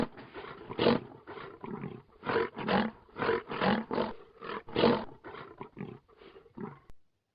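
A lion roars repeatedly in a series of loud, close, throaty bursts that rise and fall in an uneven rhythm, then taper off into shorter grunts before the sound stops abruptly.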